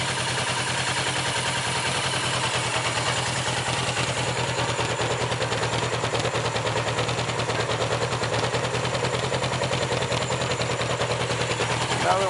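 A 1979 Suzuki GS1000E motorcycle that still needs a valve adjustment, idling with a rapid, even, close-up chuffing beat that continues throughout.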